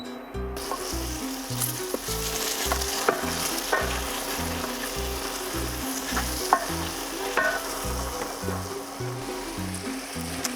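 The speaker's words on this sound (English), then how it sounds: "So you want to cook this down just a little bit before you add your white wine." Paprika, salt and aromatics cooking down in a pan for tomato pasta, a steady sizzle with rhythmic stirring scrapes and occasional utensil taps, with music underneath and no talking.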